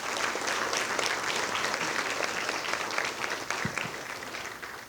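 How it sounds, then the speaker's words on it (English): An audience at a distinguished alumni induction ceremony for Lorain Schools gives award recipients a steady round of applause, dense clapping filling the room throughout and tapering slightly at the end. "If we could give them a round of applause as well,"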